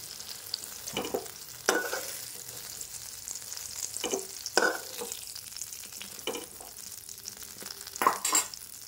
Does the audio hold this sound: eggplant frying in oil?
yes